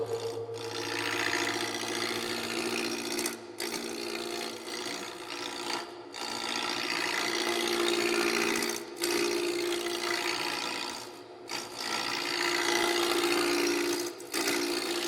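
Wood lathe roughing down a rattle blank about 2 1/4 inches thick with a gouge, a steady continuous scraping rasp with a low motor hum, broken by brief pauses every few seconds as the tool lifts off.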